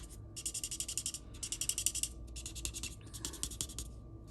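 Bursts of scratchy color lifter marker strokes on paper, pressed hard, rhythmic back-and-forth squeaks in two clusters, then lighter scribbling, close up with no talking.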